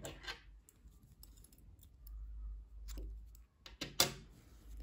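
Scissors snip through crochet yarn on a baby's ruffled romper shorts, a few short, sharp cuts close by amid quiet handling noise.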